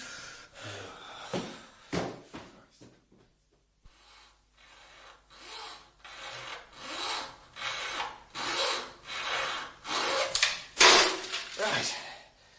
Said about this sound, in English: get me a junior hacksaw